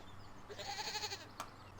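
A goat in Farming Simulator 17 gives one short wavering bleat at moderate distance over a low steady hum, followed by a brief click.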